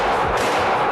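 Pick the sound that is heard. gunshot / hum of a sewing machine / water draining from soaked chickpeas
gunshot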